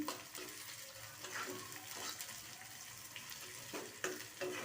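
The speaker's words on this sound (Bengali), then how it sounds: "এগুলো আমি ভালো করে ভেজে নেব।" Curry leaves and green chillies fry in hot oil with a steady, fairly quiet sizzle and crackle, and a few sharper pops and spatters break through.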